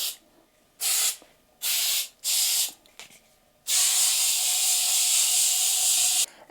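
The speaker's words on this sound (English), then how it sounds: "I'm gonna put a little bit of holding spray" Tresemme holding hairspray hisses from an aerosol can onto short styled hair: three short bursts, then one long sustained spray, all loud and close, with no talking.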